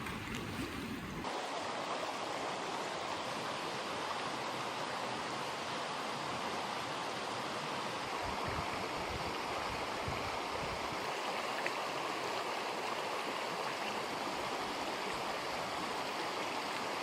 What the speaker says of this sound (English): There's the waterfall.